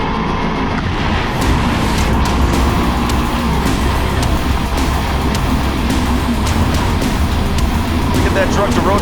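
Racing trucks accelerate on a slippery dirt track, their engines roaring in a loud, continuous mass close by, with excited commentary talking over the noise throughout.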